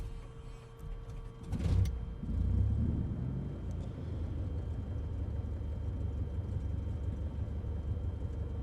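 In Microsoft Flight Simulator, a light aircraft engine throttles up for takeoff, rising near the two-second mark into a steady droning rumble that carries on to the end.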